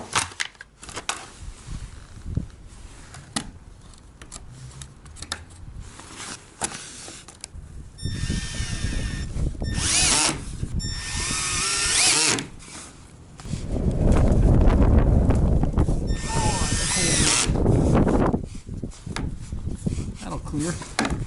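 A power drill drives screws to mount ski guides on a snowmobile trailer, sounding in several loud whirring bursts of a few seconds each, separated by quieter handling noises and some talking.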